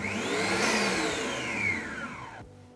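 Electric mixer whisking sugared meringue for a hazelnut pastry, a close whirring motor with shifting pitch sweeps as the beaters move, running steadily then cutting off near the end.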